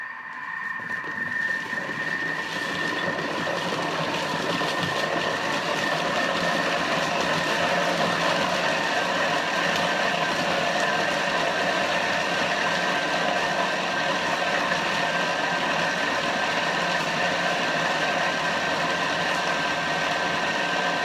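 A Thermomix blends chocolate cake batter containing dates at speed 6, giving a loud, steady whirring drone with a gritty rattle that holds unbroken for about twenty seconds.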